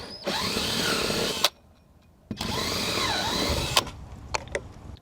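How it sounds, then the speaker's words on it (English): A power drill whines at high speed while enlarging a scupper hole in a Pelican kayak, running in two long bursts separated by a short pause, close and loud, with a few clicks and knocks at the end. "I'm able to use a drill and make that hole a little bit bigger."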